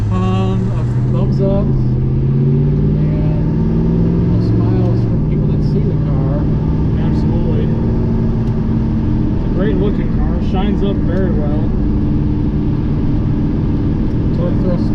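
A 1971 Chevrolet Chevelle clone powered by a 350 small block drives along, its deep engine drone steady and loud from inside the car while someone talks over it throughout.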